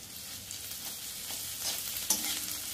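Ginger paste sizzling in a hot pan, a quiet, even frying hiss with faint stirring scrapes and one small clink near the end, close but low in level.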